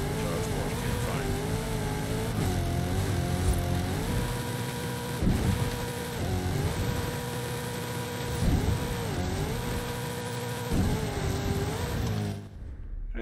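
A 1977 Ford Escort Mark II in Forza Horizon 5 holds a steady, loud engine drone that rises and falls through several revs and gear changes, then cuts off near the end.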